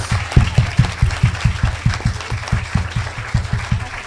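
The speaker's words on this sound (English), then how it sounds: "Let's give our panelists a round of applause." A symposium audience applauds its panelists with sustained crowd clapping, joined by a regular low thumping pulse that runs beneath it throughout.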